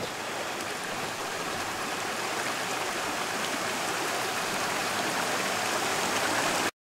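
A mountain stream rushes steadily and fairly loudly over rocks in a wild forest setting, a continuous broadband wash of flowing water that cuts off abruptly at the end, with no voices.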